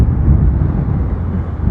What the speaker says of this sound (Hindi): हवा बहुत तगड़ी आ रही है